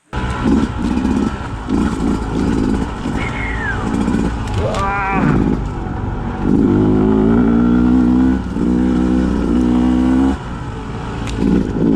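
A 2020 Beta 200 RR two-stroke dirt bike ridden on a trail, its engine droning and revving close and loud throughout, rising and falling with the throttle, with a brief voice in between.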